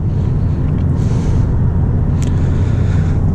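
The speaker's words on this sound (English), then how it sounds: "you can hear the rev kept going up after I let off the throttle, after I hit the clutch" A manual car engine idles with a steady low rumble, its revs hanging and lingering after the throttle is released and the clutch pressed, close and continuous throughout.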